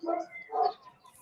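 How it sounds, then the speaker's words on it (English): A dog outdoors gives two short, close barks in quick succession, alone and fairly clear. "I hear a big bark."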